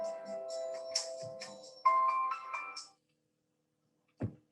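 A mobile phone ringtone goes off during a talk on forgiveness, a bright electronic melody of stepped tones that plays for about three seconds before being cut off, followed by a short low thump.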